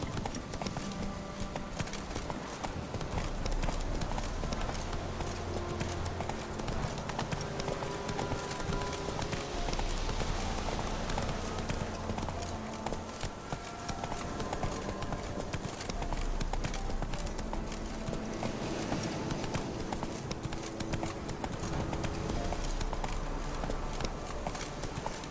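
A horse gallops in the video game The Witcher 3, its hooves clip-clopping in a fast, continuous rhythm over a long stretch, with game ambience and brief speech mixed in.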